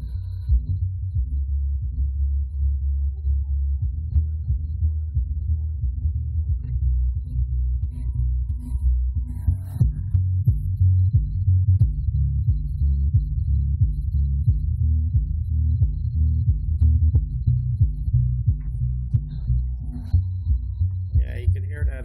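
Deep pulsing bass from a subwoofer driven by a Kicker ZX2500.1 car amplifier, a steady loud low throb and hum that grows stronger midway and continues throughout.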